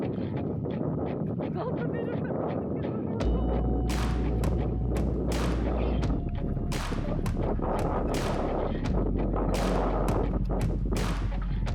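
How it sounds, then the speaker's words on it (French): A series of sharp, booming blasts from underground rock blasting for construction goes off irregularly, each a sudden thud with crackling debris, under steady wind and low rumble. "Explosion de roches souterraines pour des travaux de construction."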